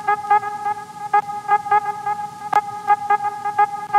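Car horns toot repeatedly in short bursts over busy road traffic, with several honks overlapping in an irregular rhythm and one sharp louder hit midway.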